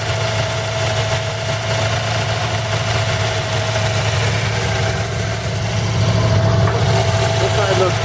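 A 1940 Buick straight-eight engine idles after its first start in 30 years, a steady low rumbling drone with slight vibration throughout, while people talk over it.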